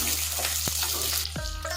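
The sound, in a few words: onions, chili, curry leaves, garlic frying in hot oil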